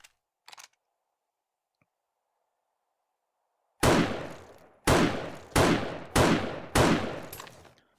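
A rifle fires five loud gunshots in the video game 7 Days to Die, each a sharp crack with a decaying tail, evenly spaced after a quiet pause, with a couple of faint clicks before.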